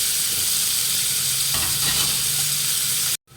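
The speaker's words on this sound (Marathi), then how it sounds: "कांदे लाल होण्यासाठी आणि शिजण्यासाठी मीठ टाकलं आपण आता मिडियम गॅस लाल येईपर्यंत छान भाजून घ्यायचा" Sliced onions with salt fry on medium gas in a pan, making a loud, continuous close sizzle with a short stirring scrape midway before cutting off abruptly.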